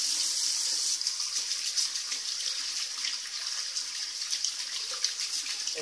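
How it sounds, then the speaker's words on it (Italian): Hot water running from a tap into a sink during a menthol wet shave, a steady hissing stream that starts with a burst and continues unbroken, close and moderately loud, with no talking. "aggiungendo un po' d'acqua calda, vado a scorrere"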